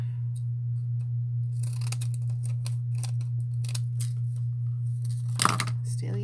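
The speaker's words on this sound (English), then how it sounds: "scissors to cut, because I'm still using a pair of scissors" Scissors snip through brittle paper for an artist trading card, a run of quick, crisp cuts up close over a steady low hum, ending with a louder crinkle of paper.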